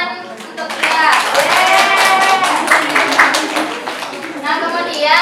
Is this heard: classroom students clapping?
yes